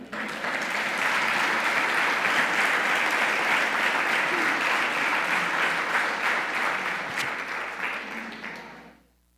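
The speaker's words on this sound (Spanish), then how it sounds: "¿Usted cree que Dios merece un aplauso?" A church congregation bursts into sustained applause during a Spanish-language sermon, a dense, even wash of many hands that tapers off near the end.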